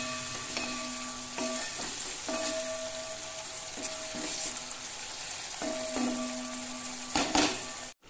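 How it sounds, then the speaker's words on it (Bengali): Masala of salt, turmeric, chili and cumin fries in a pan with a steady sizzle, while a utensil scrapes and clinks against the metal in repeated strokes, close up with no talk, ending abruptly. "এবার মশলাটাকে ভালো করে কষিয়ে নেব"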